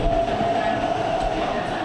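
An MTR East Rail line train at Tai Po Market Station in Hong Kong: a steady rolling rumble with a sustained mechanical whine, continuous and close, without distinct clacks or horn.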